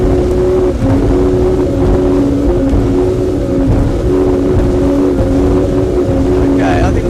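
A Sunseeker Hawk 38 speedboat at full throttle near 60 knots, a loud, constant roar of engines and rushing water and wind filling the whole stretch, with no letup.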